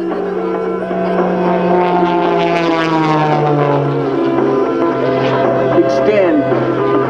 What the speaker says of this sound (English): She loves to turn and roll that airplane all the way through.